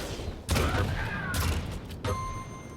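Shotgun blasts in a Quake Pro League match, two sharp loud bursts about a second and a half apart, with lighter game effects in between.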